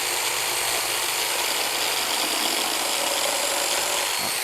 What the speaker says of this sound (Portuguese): Isso é a retífica.